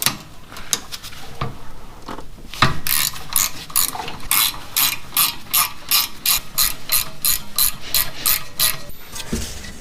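A ratchet wrench undoes the bolts on a rear brake caliper, its pawl clicking in fast, even bursts of strokes that are close and loud, with a brief pause before the steady ratcheting takes over.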